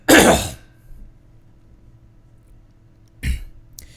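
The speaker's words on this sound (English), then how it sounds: "I was coughing during this" A gamer coughs twice during a live-streamed play session: a loud, close burst at the start, then a quieter second one about three seconds later, with a faint steady background hum in between.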